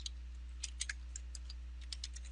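Fast, uneven keystrokes on a computer keyboard while entering Python code, a run of light clicks that rises and falls in loudness over a steady low hum.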